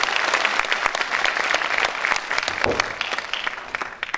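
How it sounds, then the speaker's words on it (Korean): Sustained applause from an indoor audience, dense and steady clapping throughout, moderately loud. "뜨거운 격려의 박수 부탁드립니다."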